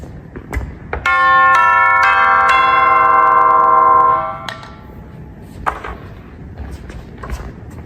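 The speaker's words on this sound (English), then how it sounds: "These are the tubular bells." Tubular bells from a classical percussion demonstration, struck about four times in quick succession so bright metallic tones stack and ring together, then fade out over a few seconds, followed by faint knocks and handling noise.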